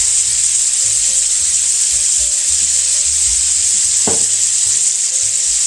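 Scallops sear in butter in a hot pan, giving a loud, continuous, close sizzle with faint low kitchen hum and one brief clink partway through.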